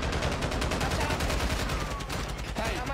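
Rapid bursts of automatic gunfire rattle through a shooter video game, dense and loud for the whole stretch, with a player's voice talking over the shooting.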